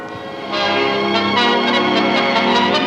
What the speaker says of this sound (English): Big Ben, to be correct, is the hour bell